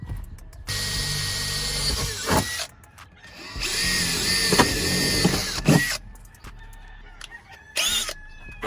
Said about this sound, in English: So use the 1/8 of an inch drill bit.